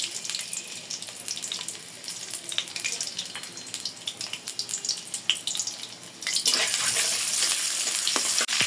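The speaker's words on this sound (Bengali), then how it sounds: "তেল গরম হয়ে গেছে, সামান্য একটু পেঁয়াজ কুচো দিব" A little chopped onion frying in hot oil for a Bengali mutton curry gives a close, steady sizzle that swells louder partway through, with no talking.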